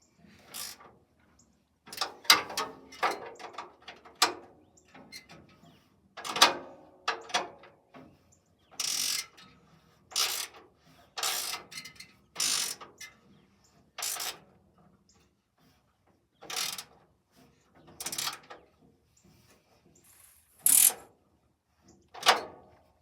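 Ratchet wrench clicking on old, rusty radiator bolts, with bursts of ratcheting strokes in an irregular rhythm and quiet gaps between them, close and fairly clear, no talking.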